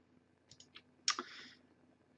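Computer keyboard typing a domain name, a few quick light key clicks followed by one louder clattering keystroke burst, close and quiet in an otherwise silent room.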